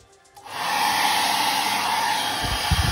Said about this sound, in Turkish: Saç kurutmamız çıktı.